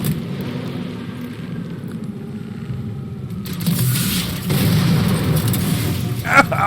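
A rocket launcher in Halo: The Master Chief Collection fires and detonates. Low, rumbling blasts swell and roll beneath steady game noise, ending with a sharp, close bang.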